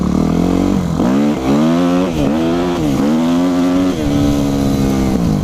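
A Yamaha YZF 250 motorcycle engine revs hard during wheelie riding, its pitch rising and falling in repeated loud surges that are close and steady, with no voices heard.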